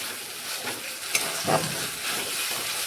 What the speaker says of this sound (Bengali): যতক্ষণ না মশলা থেকে তেল ছাড়ছে ততক্ষণ মশলাটা ভালোভাবে কষে নেব।